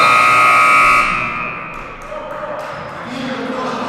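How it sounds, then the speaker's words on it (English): A loud, flat electronic buzzer ends the first half of a basketball game, blaring for about a second over crowd noise and a commentator, then the arena din carries on. "David Wise at the buzzer."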